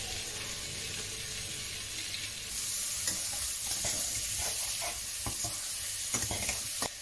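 Potatoes, capsicum, pasta and carrots sizzle steadily in a frying pan while a spoon stirs through them, with scraping and clinking strokes growing busier and slightly louder partway through.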